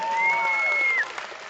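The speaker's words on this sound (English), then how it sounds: "Big round of applause for these 2 competitors." A crowd at a competition's summer finals in Melbourne applauds the two podium competitors, with a steady wash of clapping under a sustained whistle-like tone that stops after about a second, leaving the applause a little quieter.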